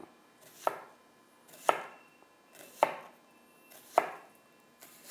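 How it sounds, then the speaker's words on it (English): A knife slices thinly through onions on a cutting board, five crisp, evenly spaced chops roughly a second apart, close and clear with no talking. "slice the onions really thinly like that"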